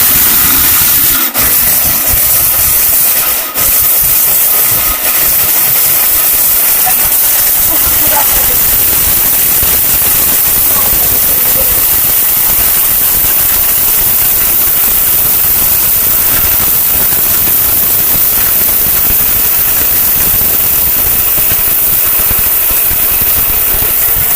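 A Gazi Smiss 1200-watt blender grinding turmeric, running as a loud, steady motor whine and hiss that holds for the full stretch, with a couple of brief knocks near the start.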